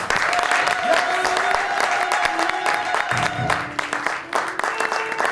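A church congregation claps and cheers in continuous applause, with voices and tonal sounds running over the clapping throughout.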